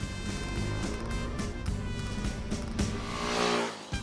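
A 2018 Husqvarna Vitpilen 701 motorcycle engine revs up through the gears with a quick shifter, rising whine with quick shifts, loud and close, swelling toward the end.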